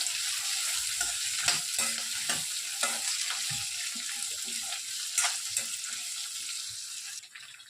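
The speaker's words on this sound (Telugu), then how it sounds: "ఇవి బాగా వేగనివ్వాలండి" Steady hiss of tamarind frying in hot oil with coconut and green chillies, with scattered crackles and a few scraping stirs of a spoon against the pan, close by.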